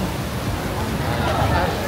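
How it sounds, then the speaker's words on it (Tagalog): Heavy rain pouring down, a dense, steady roar of loud hiss with no breaks. "Ewan ko kung rinig nyo, pero ayan, naulan. So, ang lakas ng ulan."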